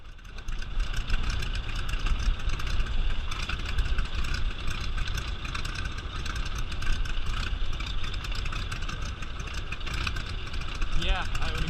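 Radial engine of a Stearman biplane idling as it taxis slowly along an asphalt runway toward the hangar, a steady loud rumbling drone heard from the cockpit, with voices talking over it.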